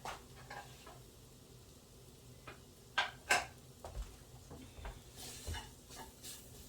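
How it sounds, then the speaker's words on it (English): Butter and flour cooking together in a pan for chicken enchiladas, giving a soft, steady sizzle and stirring close by, with a few sharp clinks of a utensil against the pan in the middle. "I'm going to add another tablespoon of butter to it."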